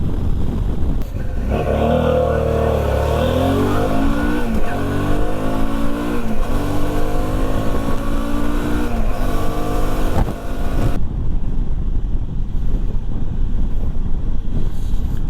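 A loaded touring motorcycle under way on a mountain road, engine droning loudly with rising and falling pitch through gear changes, buffeted by heavy wind noise close to the microphone.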